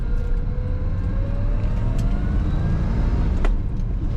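A 1970 Chevrolet Chevelle Malibu Sport Coupe with a four-speed manual idles close by in a steady low rumble, and a faint high whine drifts across it, with no talking.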